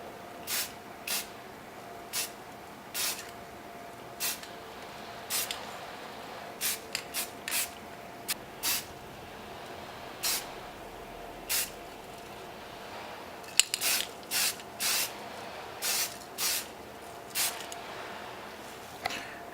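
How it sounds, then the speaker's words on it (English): Rust-Oleum brown spray paint is sprayed lightly over fishnet laid on a G&G combat airsoft gun, in many short, close hissing bursts at irregular intervals with quiet gaps between. "we're going to lightly spray over the piece"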